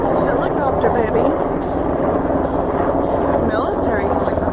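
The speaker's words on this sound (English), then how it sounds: "Military helicopters." Military helicopters pass overhead as a steady, loud rotor and engine roar that fills the whole clip without letting up.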